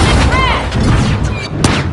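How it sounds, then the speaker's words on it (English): A flashbang going off in the game The Finals, a sharp burst with a whooshing, ringing tail, heard amid busy in-game combat effects and layered under a commentator's excited talk. "Using a flashbang!"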